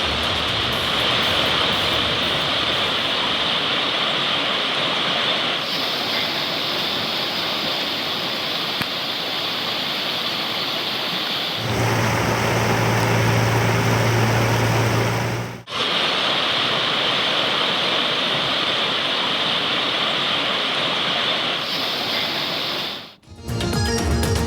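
Heavy floodwater rushing across main roads after torrential rain in Nellai, a steady loud roar of flowing water that fills the scene, shifting in tone between sections, with no voices heard.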